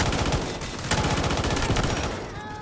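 Rapid automatic gunfire from Luna in the shooter game Delta Force Mobile rattles on continuously, loud and close, with dense overlapping shots.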